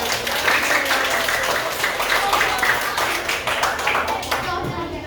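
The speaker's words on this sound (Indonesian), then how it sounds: "sekali lagi tepuk tangan untuk kita semua" Audience applause at a school teacher-training presentation session in a classroom, steady dense clapping from many hands filling the whole stretch, loud and close, with a few voices faintly mixed in before it thins at the end.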